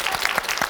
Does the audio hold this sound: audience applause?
yes